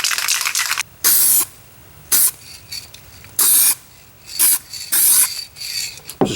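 Aerosol spray can laying a coat of paint on a Jeep Liberty bumper under repair: several separate close, loud hissing bursts, each about a quarter to half second long, with quieter pauses between them.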